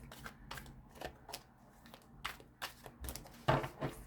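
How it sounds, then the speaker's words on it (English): Tarot cards being shuffled and cut, a run of short papery riffles and slaps at an uneven rhythm, close and fairly quiet with no voices. "Something told me to shuffle and cut again."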